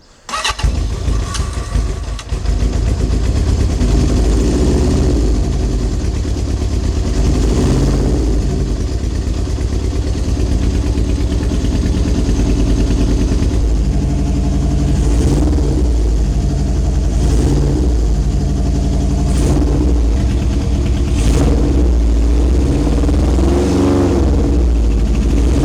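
A Honda CB750 café racer, suffering a cylinder fault, fires up after a brief crank and then runs loud and close with a lumpy idle, broken by several throttle blips that swell and fall back.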